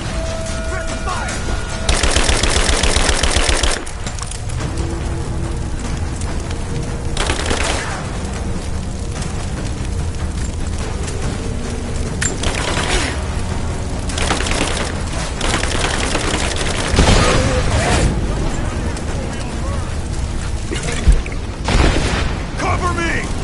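Covering fire in the Rise of the Tomb Raider video game: loud, sustained automatic gunfire and repeated booming bursts dominate throughout, with shouted voices cutting in between volleys.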